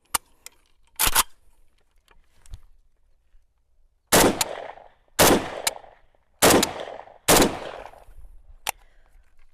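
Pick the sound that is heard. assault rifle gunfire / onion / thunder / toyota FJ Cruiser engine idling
assault rifle gunfire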